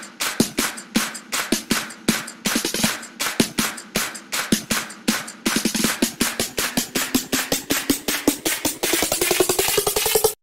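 A fast, punchy electronic FM drum loop with bright, metallic hits in a steady repeating pattern, loud and up close, no voices.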